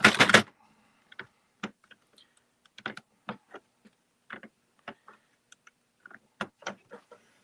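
Cranking a Sentro-type circular knitting machine yields a burst of rattling at the start, then a steady run of light plastic clicks and ticks at irregular spacing, close and fairly quiet, with no talking.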